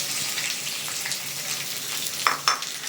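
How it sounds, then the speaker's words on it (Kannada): Two lengthwise-sliced onions dropped into a few spoons of hot oil, a loud close crackling sizzle with scraping stir strokes and a couple of sharper spatula clatters near the end. "ಎಣ್ಣೆ ಬಿಸಿ ಆಗಿದೆ, ಅದಕ್ಕೆ ಉದ್ದುದ್ದಕ್ಕೆ ಹಚ್ಚಿರೋ 2 ಈರುಳ್ಳಿ ಹಾಕೋಣ."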